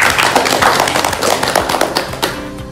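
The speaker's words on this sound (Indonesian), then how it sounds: "Tepuk tangan dong." A school audience claps steadily for close to three seconds, a dense patter of many hands that stays fairly loud throughout, with a faint voice underneath.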